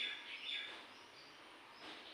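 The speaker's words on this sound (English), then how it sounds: "The chirping of birds, because there are lots of trees around my house" Faint, thin bird chirps drift in from trees outside a house, distant and soft over a quiet room background with no talking.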